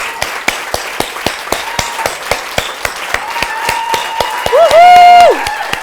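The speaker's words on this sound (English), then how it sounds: "we have to give Sonya another round of applause for sharing her journey with us" Scattered claps from an audience honouring Sonya at a women's event, sharp separate hand claps in a loose rhythm, then a loud voice cheering with a sustained whoop near the end.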